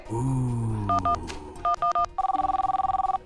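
A steady electronic tone gives way to short paired telephone beeps, then a long run of rapid, evenly pulsed dialing tones, close and clear.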